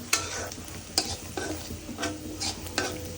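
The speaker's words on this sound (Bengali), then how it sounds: "পেঁয়াজ কাঁচা এই এখন একটু ভেজে নিচ্ছে" Raw onions fry in a pan for an egg curry, with a continuous sizzle and regular spatula stirring scrapes, close up and without talk.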